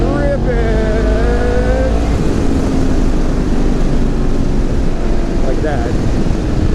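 Yamaha MT-10 motorcycle accelerating hard in fourth gear, loud rising engine roar that swells into heavy wind rush, close and continuous, with a rider's brief talk early on.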